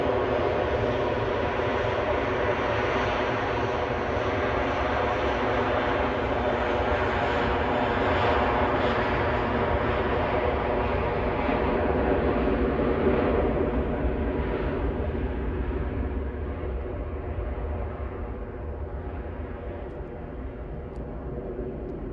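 A Vueling Airbus A321 departing Edinburgh for Barcelona gives off a loud, continuous engine roar up close that holds steady and then slowly fades as it climbs away, with no voices.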